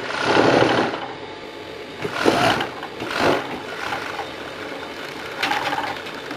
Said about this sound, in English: After doing the side seam with the overlock